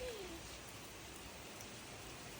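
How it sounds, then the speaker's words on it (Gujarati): Heavy rain pours down steadily in Bhavnagar, a dense, even hiss of drops on surfaces that fills the scene from start to finish without a break. "ભાવનગરમાં આટલો બધો વરસાદ મેં પહેલી વાર જોયો છે."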